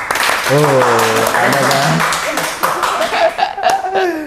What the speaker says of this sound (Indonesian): teman-teman tepuk tangan dulu